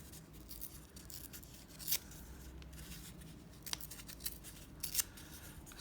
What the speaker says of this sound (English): So I'm just ripping off those corners